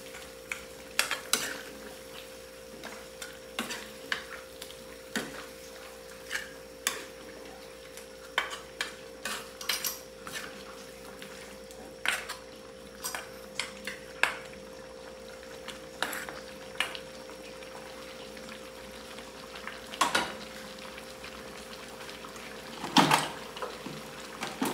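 Pork trotters in adobo with banana ketchup being stirred in a pan, a spoon scraping and knocking in repeated irregular strokes over a low steady simmering hiss, close and moderately loud with no talk.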